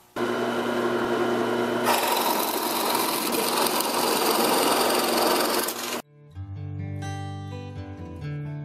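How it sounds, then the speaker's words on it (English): A power drill whines steadily and loudly for several seconds while drilling a hole in wood, then stops abruptly, leaving a quieter tonal hum and faint clatter. "I'm going to drill out that eye hole real quick"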